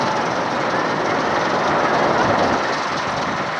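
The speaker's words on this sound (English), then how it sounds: "there's no guarantee on Twisted Colossus that you're gonna have both trains side by side." Twisted Colossus roller coaster trains at Six Flags Magic Mountain in Valencia, California roar along the track in a loud, steady rumble of wheels that holds without a break.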